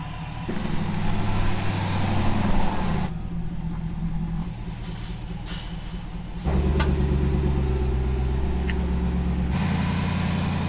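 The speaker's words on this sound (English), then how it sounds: "now that the old Harley's out of the way, we're gonna get the Jeep over on the frame rack" A Jeep is driven onto a frame rack in a workshop, its engine running at a steady low rumble throughout, with a louder surge partway through as it moves.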